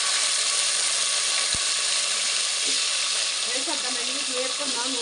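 Vegetables for sambar, such as bottle gourd, tomato, okra, drumstick and brinjal, drop into hot oil with a steady, close sizzle, with a few soft clinks and scrapes in the last seconds.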